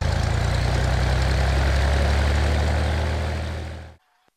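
A Cessna 172 piston engine runs up before takeoff, a loud steady propeller drone with strong low rumble that holds for several seconds and then cuts off abruptly, leaving near silence.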